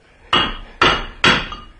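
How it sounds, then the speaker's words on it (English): A hammer strikes a rusted part on a 1995 Eclipse under repair: three loud, sharp metallic blows at an even pace, each ringing briefly before the next, with no talk over them. "It's not the size of your hammer, it's the way you use"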